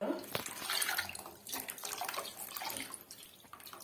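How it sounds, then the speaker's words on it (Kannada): Water poured into a pot for tomato sambar, a close, continuous splashing and gurgling stream that lasts a few seconds in a home kitchen. "ನೀರು ಹಾಕೋತಾ ಇದೀನಿ ನಾನು"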